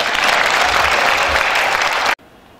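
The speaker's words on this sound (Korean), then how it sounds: "박수 안 해요?" A church congregation at a pastor's inauguration thanksgiving service bursts into loud, dense applause for about two seconds, then stops abruptly into near silence.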